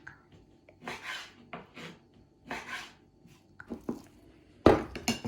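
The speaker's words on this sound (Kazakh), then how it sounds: "Сақ-сақып тураймыз лағманның етін." Knife slicing meat for lagman on a board, a few soft irregular cuts and rasping strokes, close and quiet, ending with a couple of sharper knocks.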